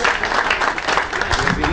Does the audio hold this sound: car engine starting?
no